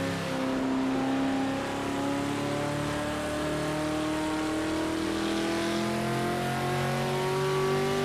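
Race car engine in Project Motor Racing, a GT-class machine, holding a loud steady drone whose pitch climbs slowly as it revs through a corner, continuous and close for the whole stretch with no talk.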